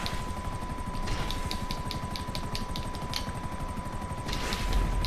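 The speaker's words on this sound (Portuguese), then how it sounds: "E agora, podemos botar os helicópteros." Helicopters in the video game GTA 5 Online, a steady rotor and engine drone filling the scene with rhythmic chopping and occasional bursts of gunfire layered on top, continuous and fairly loud throughout.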